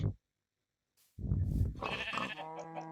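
A Minecraft sheep bleats loudly and close, a wavering drawn-out cry with a second trailing bleat, following a short silence.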